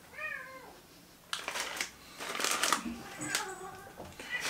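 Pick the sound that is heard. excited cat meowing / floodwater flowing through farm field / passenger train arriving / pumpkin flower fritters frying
excited cat meowing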